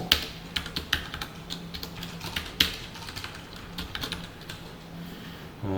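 Someone types code on a computer keyboard in irregular bursts of close, crisp key clicks, with a few louder strikes and short pauses between runs.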